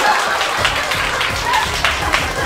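A group claps at a fan-image survey shoot. The clapping is scattered and brisk, mixed with lively chatter and laughter in a busy room.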